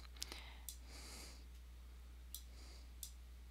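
Computer mouse clicks while working with the comment and highlighter tools in Acrobat DC: about five or six short, sharp clicks, some in quick pairs and others spaced apart, over a quiet background with a low steady hum and a soft breathy hiss.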